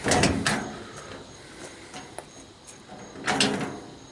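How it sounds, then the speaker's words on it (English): Mechanical clunks and a metallic latch rattle at the start, a few light clicks in the middle, then another heavy rattling clunk near the end, as an old Ford Model A roadster door opens. "And open this door."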